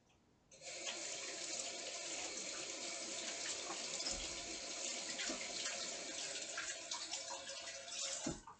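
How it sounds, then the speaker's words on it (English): A tap runs in a steady, close rush of water as hands are washed with soap beneath it, continuous for several seconds with faint splashing, and no voices. "Hands are washed."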